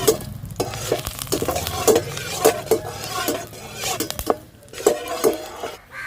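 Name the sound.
stirring and tempering chilli and onion in a frying pan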